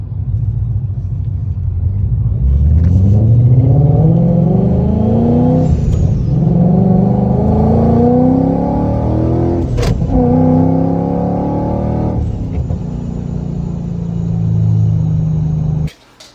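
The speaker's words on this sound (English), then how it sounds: "with her car, she's been noticing like a weird crunching noise" A car engine with a fault causing a weird crunching noise revs and rumbles loudly up close, pitch rising and falling, with a few sharp clunks cutting through the steady drone.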